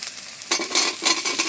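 Taro chunks go into spice paste already frying in a pan for a taro and fish curry, setting off a sudden loud sizzle with stirring scrapes that swell and fade in bursts.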